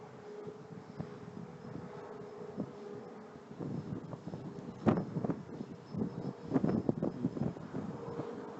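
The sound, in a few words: strong wind blowing outdoors while flying a quadcopter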